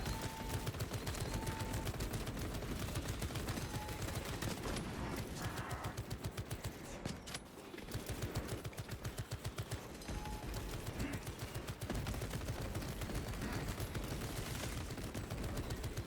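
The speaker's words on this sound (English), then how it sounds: "Activating Tarantula sentry gun." Rapid automatic gunfire from a Tarantula sentry gun in the Warhammer 40k: Space Marine 2 video game, a dense, continuous stream of shots at steady loudness with a brief lull midway.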